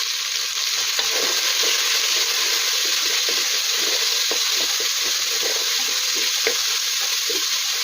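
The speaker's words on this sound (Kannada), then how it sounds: "ಎಣ್ಣೆಯಲ್ಲಿ ಫ್ರೈ ಆಗಬೇಕು ಅವರೆಕಾಯಿ." Field beans (avarekai) frying in oil with turmeric and salt give a steady, loud sizzle that runs the whole time, with faint scrapes of stirring and no talking.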